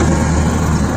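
A car engine in Karachi idles steadily before being switched off, a continuous low hum with a faint rumble, heard close and alone for a moment.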